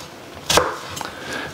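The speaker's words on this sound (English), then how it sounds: "we're going to cut our 85 grams of white onion up finely" A knife strikes a cutting board with a single sharp, close chop through white onion, followed by a couple of fainter cuts.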